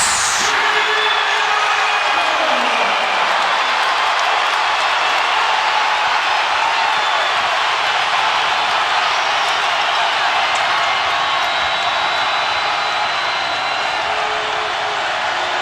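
Roaring basketball arena crowd in Lubbock during a Kansas at Texas Tech game, a dense, loud, continuous wall of cheering that holds for many seconds.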